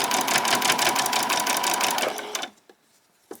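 A sewing machine stitches a seam through fabric for a pajama top in a fast, steady, close run that stops abruptly, followed by a couple of small clicks.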